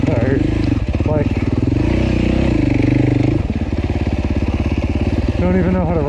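Off-road motorcycle ridden hard in the Tennessee Knock Out enduro race, its engine loud and close with a constant pulsing drone and shifting revs, while a rider talks over it.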